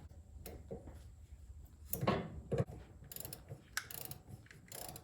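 Ratchet working loose a band clamp on the hot-side turbo boot of a 6.7 Cummins, with the clamp going to a 4 to 5 inch downpipe reducer; scattered metallic clicks and clanks come in short bursts at close range.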